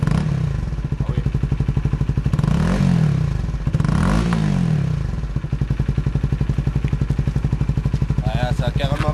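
A 125 cc Honda CBR motorcycle fitted with a replica Akrapovic exhaust idles with a steady, close throb, then is revved twice in rising and falling sweeps before settling back to a loud idle.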